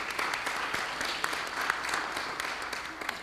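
A school board meeting audience applauds scholarship recipients with a continuous, fairly loud round of clapping from many people, steady throughout with a few sharper claps standing out.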